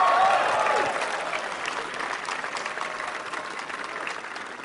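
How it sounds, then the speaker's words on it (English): Audience applause and cheering at a Tesla Model 3 customer delivery event, a loud burst at the start that settles into steady sustained clapping from a large crowd throughout. "Give yourselves a round of applause"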